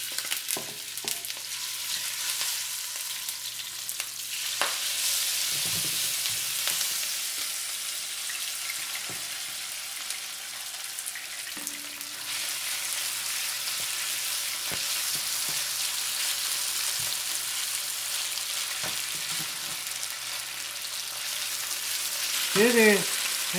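Bulgogi beef frying in an oiled pan gives a steady, loud sizzle that runs the whole time, with the occasional stir or scrape and faint background voices.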